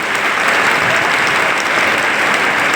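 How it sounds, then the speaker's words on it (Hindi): Dense, loud audience applause at a public event addressed by Delhi's chief minister, a continuous wash of many hands clapping with no gaps. "एक बार फिर से जोरदार तालियां"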